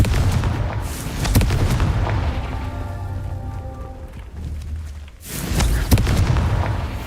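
Confringo fire spell explosions in Hogwarts Legacy erupt in a loud, sustained barrage of booms and crackling blasts, dipping briefly before another heavy burst near the end.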